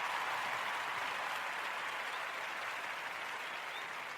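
Steady, faint applause from an audience, a dense even wash of clapping that holds for several seconds without a break.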